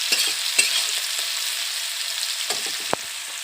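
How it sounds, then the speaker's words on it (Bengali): Potatoes fry in mustard oil in a pan with a continuous bright sizzle, broken by occasional scrapes and knocks as they are stirred. No voices. "এখানে আলুটা ভেজে নিচ্ছি।"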